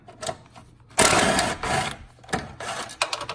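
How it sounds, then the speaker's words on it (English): A tool works an 8mm bolt off the airbox of a Fiat 500 Abarth, giving a close, rapid buzzing ratchet burst followed by shorter whirring spurts. "Now we need to remove this bolt, 8mm again."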